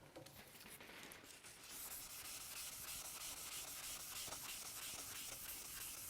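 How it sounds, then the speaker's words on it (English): Steady rubbing and buffing of wax by hand across a metal machine bed in a workshop, a continuous close scrubbing hiss that starts lighter and then settles into an even, sustained friction sound. "then we'll have a go at buffing some wax on there"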